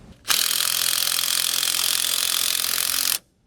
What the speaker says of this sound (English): now we'll just snug it down with our 9/16 socket and wrench